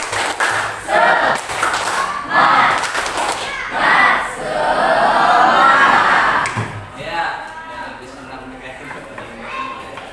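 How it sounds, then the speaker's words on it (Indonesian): Schoolchildren in a classroom perform a rhythmic spirit clap routine, bursts of claps and chanted voices in repeated rounds, followed by a sustained shout and then quieter talk. "Tepuk semangat."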